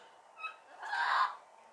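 Birds at an animal sanctuary give two calls, a brief squawk and then a longer, louder raspy cry, fairly close with quiet pauses around them.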